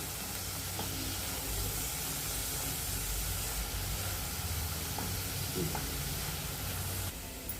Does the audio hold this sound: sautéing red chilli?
yes